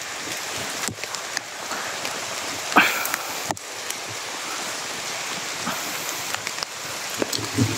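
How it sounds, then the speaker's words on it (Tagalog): Heavy rain falling in a forest, a continuous hissing wash of drops on leaves and ground with occasional nearby knocks and rustles. "Umuulan pa kasi dito, so kailangan muna namin ng magpasilong kasi malakas yung ulan."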